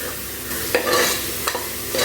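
A spoon scrapes and stirs onions and spices sautéing in a hot pan for Tamil country chicken rasam, with a few sharp clanks against the metal over a continuous sizzle.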